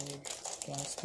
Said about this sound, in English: put that back inside the plastic bag